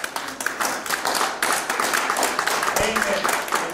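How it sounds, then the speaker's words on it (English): A church congregation claps at a Sunday service, with a close, uneven patter of hands and sharp taps, while voices talk faintly over the clapping. "Give the Lord a hand clap."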